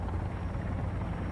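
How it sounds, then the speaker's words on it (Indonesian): Steady low rotor thrum and engine drone from a helicopter in the survival video game Sons of the Forest, continuous and fairly loud throughout with no talk. "Sekarang naik helikopter."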